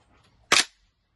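A G3 rifle's bolt is drawn back and let go, giving a single sharp metallic clack, close and loud, that stands alone in an otherwise quiet moment.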